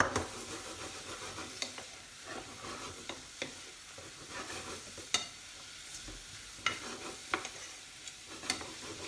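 Mushrooms frying in a pan with a steady close sizzle and hiss, broken by sharp clicks and scrapes as they are stirred around at irregular intervals.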